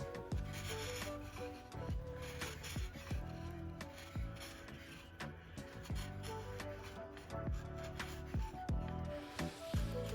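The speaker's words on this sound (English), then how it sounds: "Here's a little sharp chisel end grain shave action." A sharp chisel shaves walnut end grain in repeated short, rasping strokes, close and fairly quiet, with steady tonal music running underneath throughout.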